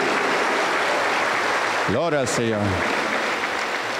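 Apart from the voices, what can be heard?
congregation applauding in church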